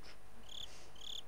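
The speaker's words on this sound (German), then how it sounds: "Grille zirpt vor sich hin." Cricket chirping in the horror game Slender, two short high-pitched chirp bursts repeating over a quiet, steady night ambience with no talking.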